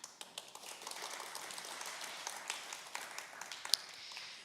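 A church congregation applauding at an annual meeting, a steady patter of many hands clapping at moderate distance, fairly even throughout with a few sharper individual claps standing out.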